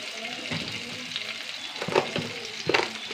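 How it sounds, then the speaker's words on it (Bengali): Spices tipped into onions and green chilies frying in a pan give a steady close sizzle, broken by a few sharp scrapes and clanks of a spoon stirring near the end. "এবার মশলা দিয়ে দেবো।"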